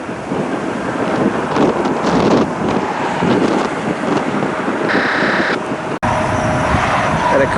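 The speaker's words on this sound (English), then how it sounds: "Boy, that wind is brutal today." Strong gusty wind buffets the microphone steadily during afternoon plane spotting beside an airport taxiway in Cleveland, a loud continuous rumble with faint traffic-like noise underneath and a brief dropout near the end.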